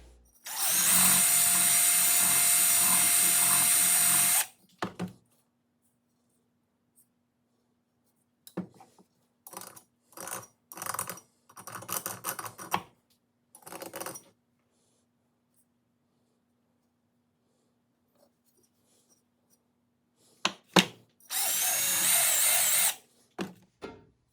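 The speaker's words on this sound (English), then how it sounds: "hook the drill up to this, go in there and spin that" A power drill spins an attachment inside a 1958 Coleman 200A lantern in loud, steady bursts: one long run of several seconds, a series of short stuttering pulses, then another sustained run, with quiet pauses between.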